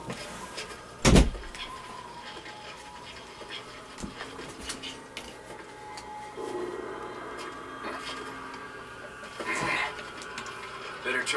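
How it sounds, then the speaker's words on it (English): A room door is shut with a single sharp thud early on, heard amid game audio and background noise. "I had to shut my door."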